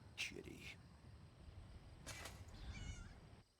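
A pet cat named Winks meows in the fantasy game Elder Scrolls Online, two short, bright mews close up and separated by a pause, set over a low, quiet game ambience.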